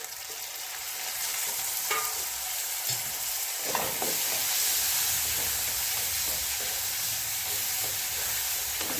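Browned onion and finely chopped tomato fry in a pan with a little oil. A dense, loud, hissing sizzle holds steady throughout, with a few stirring scrapes near the start.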